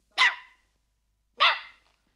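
A dog in an animated film barks aggressively, two sharp, loud barks about a second apart with a slight growl in them, and no talking over them.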